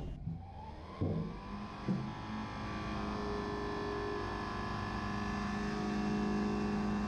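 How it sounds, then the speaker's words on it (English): Engine of a pressure-washer machine with a detergent pump starting up, with a couple of clunks at the start followed by a steady, loud, continuous running drone that holds on without talk. "start the machine by activating the engage system"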